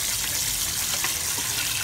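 Tap water runs in a close, steady hiss and splash as salty pork ribs are rinsed under it, continuous for the whole short stretch.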